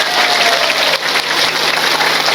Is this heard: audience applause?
yes